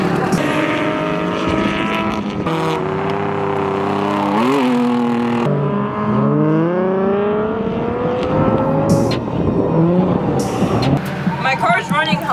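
A car engine with no power steering idles steadily while running hot, a low continuous rumble under loud, continuous talking from people nearby.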